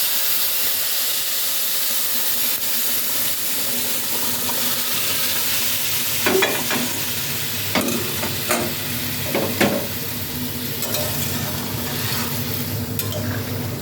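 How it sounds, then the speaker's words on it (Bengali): Hot water poured into a pan of frying rice for Bengali sweet Basanti pulao, setting off a steady loud hiss and sizzle of steam with occasional clinks of stirring. "এবার আমি এর মধ্যে আমি যে গরম করে রেখেছিলাম জলটা,"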